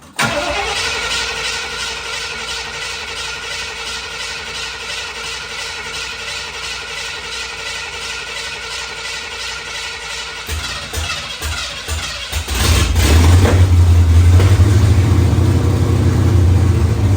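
A 1969 Mercury Montego cranking in a shop after weeks of sitting, the starter whirring for several seconds before the engine catches and roars into loud, steady revving close by.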